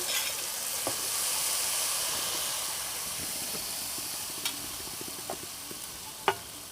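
Papaya halwa is stirred with cardamom powder in a hot pan, giving a continuous soft sizzle and hiss with light scraping strokes and a few sharp taps of the spoon against the pan.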